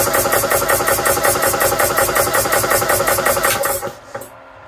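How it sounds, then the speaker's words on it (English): A mini 300-bar PCP air compressor runs with no load and its fan off, a fast, steady pulsing chug at close range for about four seconds, then cuts off abruptly and winds down into quiet. "We'll see what the actual compressor itself sounds like under no load."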